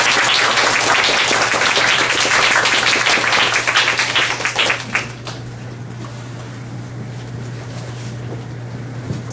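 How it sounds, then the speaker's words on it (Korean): Audience at a lecture hall giving a warm round of applause to welcome a guest author, a dense clapping burst of about five seconds that stops abruptly and leaves a steady low hum. "큰 박수로 맞이해 주시기 바랍니다."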